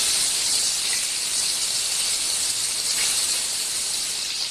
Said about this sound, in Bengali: গরম তেলে ডিমগুলো ভেজে নেব। ডিমগুলো ছেড়ে দিচ্ছি।